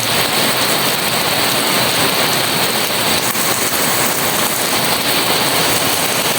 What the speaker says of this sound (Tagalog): lakas ng ulan dito sa amin grabe na ah